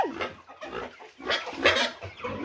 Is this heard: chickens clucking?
yes